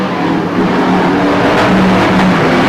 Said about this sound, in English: 22 cars get away for the consolation race.